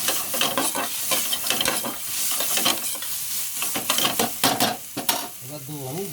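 Diced green chillies and crushed black pepper stirred in a hot frying pan: steady close sizzling with repeated scraping strokes of a utensil, dense and continuous throughout.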